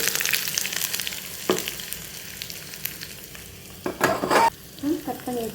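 Chopped large onion fries in a pan and is stirred. A constant light sizzle is broken by a few louder scraping stirs near the end.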